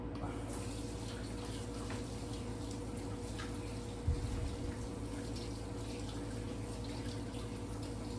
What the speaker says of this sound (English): Wash my hands up real good here. Give me a little soap.